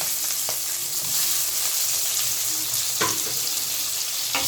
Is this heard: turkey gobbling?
no